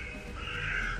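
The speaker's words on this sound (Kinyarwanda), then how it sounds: "uyu munsi iyo bashaka kumva amajwi nk'aya ngaya y'inyoni" A crow lets out a single drawn-out caw at moderate distance, fairly faint over a steady low hum.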